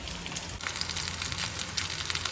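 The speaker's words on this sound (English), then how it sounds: "I'm just literally cooking it on a pan with a tablespoon of oil" A fish fillet dipped in batter sizzles steadily in a pan with a tablespoon of oil, a continuous close crackling fry with no talking over it.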